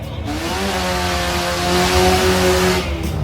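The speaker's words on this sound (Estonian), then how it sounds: "siit tundub, et summuti on läbi, sest väga hirmsat häält teeb auto number 6" A rally car in the Antsla junk-car rally roars past up close, its engine loud, harsh and rasping from a broken muffler, the raw droning sound swelling steadily.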